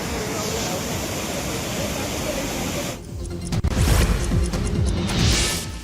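Waterfall torrent with rushing water after a sudden surge, a broad steady roar filling the clip, with heavier crashing splashes and bursts in the second half.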